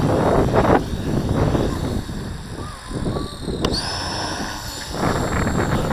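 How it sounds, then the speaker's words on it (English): A small WLtoys V950 RC helicopter runs its main rotors, giving a continuous close whirring drone with a steady whine and gusty wind-like buffeting throughout. "main rotors to spin round"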